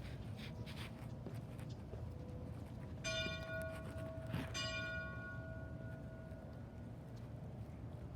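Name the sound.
church bells ringing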